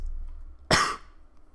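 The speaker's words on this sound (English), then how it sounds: "I'm so sorry for the coughing." One sharp, close cough bursts out over a quiet background hum.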